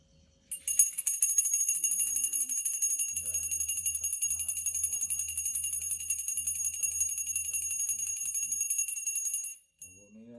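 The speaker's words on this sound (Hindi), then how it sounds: "घंटी तो बजाओ।" A small hand bell rung steadily and continuously for about nine seconds during a family Satyanarayan puja aarti at home, bright and close, with faint murmuring voices and a low hum in the background, stopping abruptly near the end.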